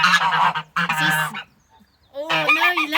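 A gander honks in loud, harmonic calls in two bursts, a short pause, then another drawn-out honk, close to the listener with no talk over it.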